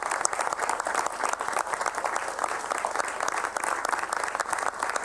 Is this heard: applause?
yes